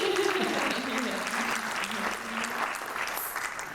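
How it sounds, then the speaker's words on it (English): A brief scattering of clapping from a modest audience at a forest-fire talk, light and uneven, blended with background voices. "There's a little clap there."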